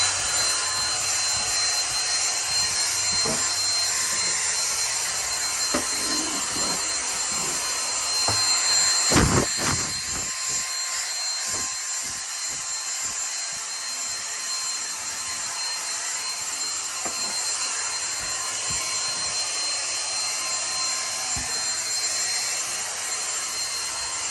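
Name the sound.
vacuum cleaner running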